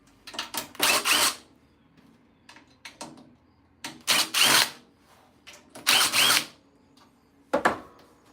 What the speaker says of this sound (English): I'm gonna use a power tool for this.